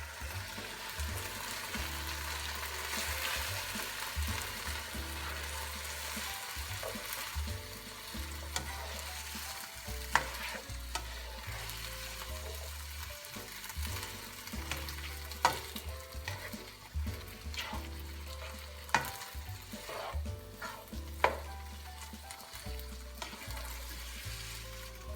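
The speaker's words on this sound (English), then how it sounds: "we've let our mixture sit and simmer for about 4 minutes" A pan of enchilada filling seasoned with pepper simmers while being stirred, making a steady close bubbling sizzle over a low hum, with occasional sharper scrapes and clicks throughout.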